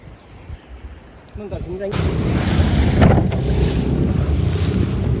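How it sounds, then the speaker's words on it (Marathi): Rough sea with heavy waves and gusting wind buffets a traditional fishing boat in bad weather, a loud continuous roar of wind and water that swells up sharply partway through and stays steady. "बघू शकता लाटा किती येतात, जाम लाटा येतात. आज हवामान पूर्ण खराब झालंय."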